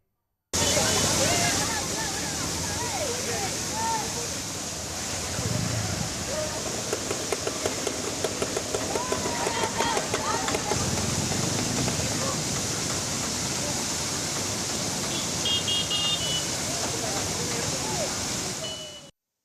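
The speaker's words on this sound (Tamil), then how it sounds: "குழாய்கள் மூலம் வெளியேற்றப்படும் தண்ணீர் அருவி போல் கொட்டுவதால்" Water gushing like a waterfall from broken reservoir tank pipes onto a street, a loud continuous rushing roar throughout, with voices faintly mixed in.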